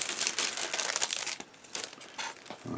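Crinkly plastic packaging from a Takom 1/35 Type 69-II tank model kit is handled close up, with bursts of crumpling and a ripping tear amid fainter rustles.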